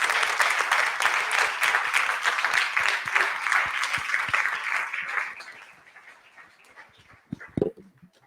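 An audience applauds after a panel discussion on sustainability for marketers, dense clapping that thins and fades out after about five seconds, followed by a few scattered knocks.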